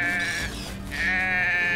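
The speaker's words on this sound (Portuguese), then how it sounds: "Ó, uma ovelha." A sheep bleats twice in the video game Drova - Forsaken Kin, two drawn-out wavering calls close by with a short gap between them, with no voices over them.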